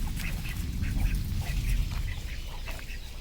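A flock of farm ducks keeps up scattered quacking, brief nasal calls coming in uneven clusters at moderate distance over a soft background hum.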